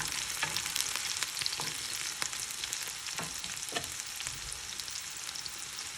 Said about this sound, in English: All right, so there is our onions. They're frying and sauteing away.